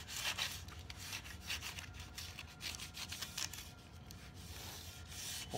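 Crumpled aluminum foil is rubbed back and forth over a chromed bike part, giving quiet, irregular scratchy rasping strokes with no voices.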